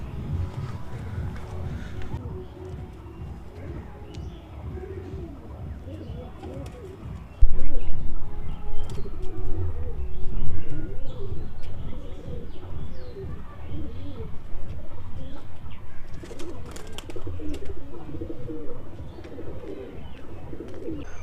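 Pigeons coo repeatedly on a household rooftop near their coop, low rolling calls recurring close by over a steady outdoor background, growing louder partway through.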